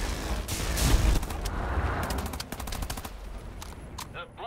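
Rapid gunfire sounds in the video game Wolfenstein: The New Order: a dense burst of automatic shots, then a rattling series of distinct cracks, loud and close, with game sounds mixed in.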